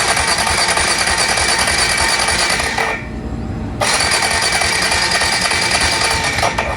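A motorcycle's starter cranks the engine in a rapid, loud mechanical churn that runs for about three seconds, stops briefly, then resumes just as hard for the rest of the stretch without the engine catching.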